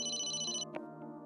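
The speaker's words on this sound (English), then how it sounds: "The phone's ringing." A phone ringing in the Emio video game gives a bright, rapidly repeating electronic trill for about half a second, then cuts off, leaving a soft tonal game background with a brief click.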